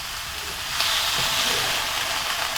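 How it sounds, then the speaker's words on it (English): Beef browns in an oiled pan with a steady, close, broadband sizzle and hiss that swells slightly partway through as its little remaining water boils off, with no talking. "the little water that was in it is boiling off fairly quickly, and I'm going to let that boil off because I want to keep browning"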